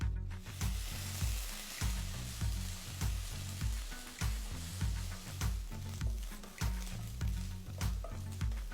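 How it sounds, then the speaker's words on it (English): Ginger garlic paste sizzling with golden-brown sautéed onions in a pan, a steady crackling fry punctuated by regular stirring clicks and scrapes, fairly close and continuous. "To this, add 1 teaspoon of ginger garlic paste."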